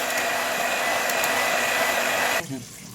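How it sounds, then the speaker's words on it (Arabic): A continuous, loud electric mixer whirs as it whips cream, holding a steady motor drone for over two seconds before cutting off abruptly, leaving a quiet room with faint handling noise. "وكده احنا بنضرب الكريمه اهو."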